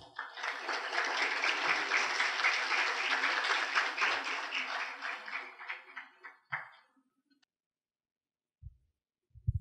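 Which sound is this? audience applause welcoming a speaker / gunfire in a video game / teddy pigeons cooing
audience applause welcoming a speaker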